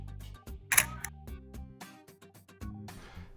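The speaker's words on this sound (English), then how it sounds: "the act of allowing light to fall on it would be hitting the shutter button" A camera shutter button pressed on a single-lens reflex camera, giving a crisp mechanical shutter click with a few softer clicks and clacks around it, close and alone.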